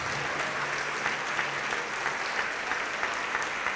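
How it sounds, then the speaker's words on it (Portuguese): Church congregation applauding steadily throughout, a dense, sustained wash of clapping from a large crowd with a faint low hum beneath. "vamos aplaudir mais ao nome de Jesus"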